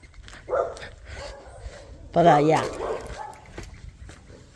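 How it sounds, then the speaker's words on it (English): Puppies bark and yip in short bursts nearby while a person speaks briefly outdoors while putting out the trash. "Those puppies are really loud."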